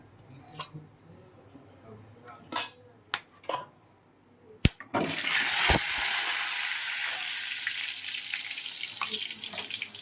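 Whole cinnamon and cloves hit hot oil in a kadai for tempering a crab dish, bursting into a loud, steady sizzle after a few scattered clinks and taps, then hissing continuously close by.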